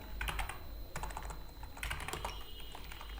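Fingers type on a computer keyboard, a quick, close, fairly quiet patter of key clicks in short bursts with brief pauses between them.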